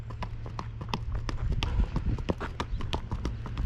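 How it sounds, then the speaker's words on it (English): A Spotted Saddle Horse walks with steady, evenly spaced hoof clip-clops, fairly close, over a low background hum. "so I was going to show you another horse's gait"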